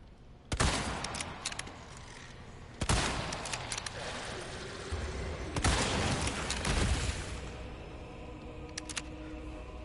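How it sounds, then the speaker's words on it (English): Several loud gunshot bursts from the video game Resident Evil 4 Remake, spaced a few seconds apart, with a busy background din between them. "they're just taking all the gunshots, aren't they?"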